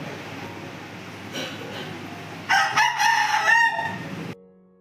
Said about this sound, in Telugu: రోజును ఈ కోడి అయితే ఇంటి దగ్గరికి వచ్చి అలా కూస్తుందన్నమాట.